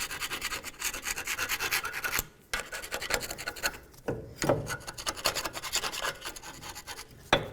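A hand tool scrapes the metal mounting surface of a wheel hub on a 2003-2007 Nissan Murano in steady, rhythmic strokes, close and fairly loud, with a few short pauses between passes and no talking.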